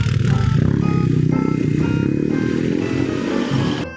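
A stalled motorcycle engine rumbles roughly and unevenly in the middle of a road, sputtering and clattering close by without ever settling into a smooth rev.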